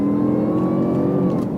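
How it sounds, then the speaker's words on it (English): A 400 HP supercharged V8 car revs, its blower whine a thin rising tone riding over a loud throaty engine rumble, close and continuous. "listen to the blower whine"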